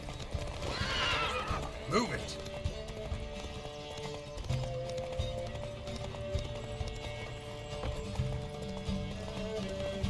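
Horses neigh and whinny over rapid galloping hooves during a horse race in The Witcher 3: Wild Hunt, with a voice shouting a brief command amid background music.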